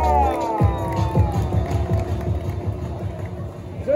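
Audience at a Batalha da Leste rap battle in São Paulo's Zona Leste cheering and clapping over a steady beat, a loud, dense crowd roar with rhythmic claps running throughout.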